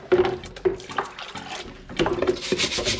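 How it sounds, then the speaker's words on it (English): Vintage Tupperware being rinsed under a running tap, with irregular rubbing and squeaky scrubbing against the plastic over a thin trickle of water, close and fairly loud. "Rinse that off."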